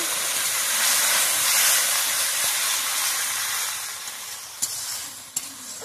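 Spice paste for an okra curry sizzles loudly in a pan after water is poured in. The hiss is dense and continuous and eases slightly toward the end, with a couple of sharp clicks.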